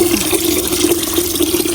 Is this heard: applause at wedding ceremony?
no